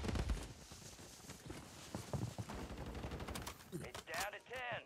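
Rapid, dense automatic gunfire in the video game Warzone, with loud, close bursts rattling almost nonstop and a voice talking near the end.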